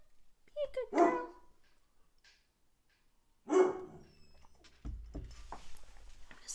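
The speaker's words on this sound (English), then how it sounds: "I'm gonna see what she's barking at." A dog barks outdoors on a farm in March, with two separate loud bark bursts a few seconds apart, followed by rustling and wind-like noise.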